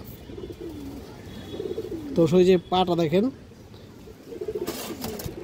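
Giribaz pigeons give a close, deep, throaty cooing in two short bursts mid-clip, while someone talks before and after them.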